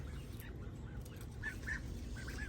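Ducks give a few soft, faint quacks and calls outdoors over steady background noise.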